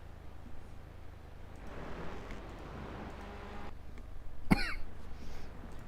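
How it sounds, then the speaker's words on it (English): A single sharp cough bursts out near the end over a steady low hum of race car onboard audio from a touring car at Donington Park. "Do excuse the little sarcastic coughs every now and then"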